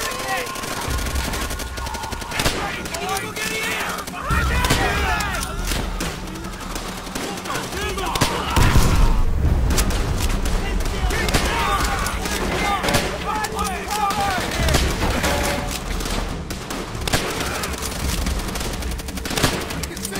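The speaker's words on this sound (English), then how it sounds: "Someone's back up with the heavy machine gun." Heavy machine gun fire rattles in sustained bursts with scattered explosions in World War II combat in Call of Duty: World at War, loud and continuous throughout.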